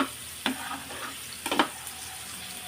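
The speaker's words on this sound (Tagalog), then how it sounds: "Gisa mo na yung sibuyas mo" Onions sautéing in a pan while cooking pork with shrimp paste: a faint, steady sizzle with a few sharp stirring scrapes and clatters.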